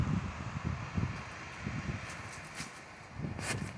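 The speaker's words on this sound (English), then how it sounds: "there's that wind I was talking about" Outdoor wind gusting against a microphone, low buffeting rumbles that swell and fade, faint and close, with no voices.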